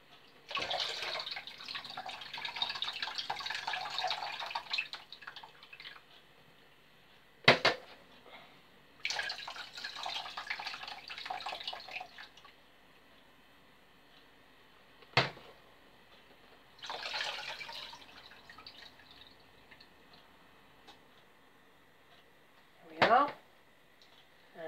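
Tap water pours into a measuring jug in bursts while jars of fruit are prepared for bottling. Several sharp clinks and drips fall in the pauses between the pours, and there is no talking over it.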